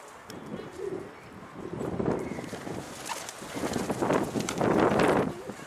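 Soft, low pigeon cooing repeats in short bursts amid outdoor background noise, with faint voices nearby.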